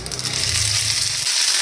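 Ginger garlic paste dropped into hot oil with cumin and mustard seed tempering gives a close, steady bright sizzle that settles near the end.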